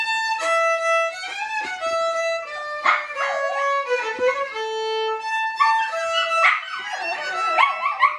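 A dog howls in long, wavering, high-pitched tones that slide up and down, with a few yips mixed in, loud and close throughout.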